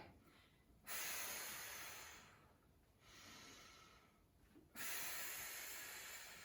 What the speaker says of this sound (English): Now you can see I'm over-exaggerating the breathing.